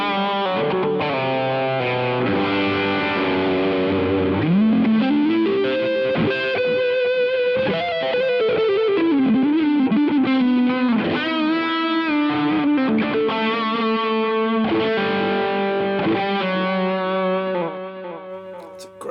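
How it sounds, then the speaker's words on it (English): An electric guitar played through a ToneConcepts GOO distortion pedal in Marshall Guv'nor style, with echo added, rings out in loud sustained distorted chords and melodic single-note lines that fade out at the end, without talk. "So we have a Marshall guv'nor now"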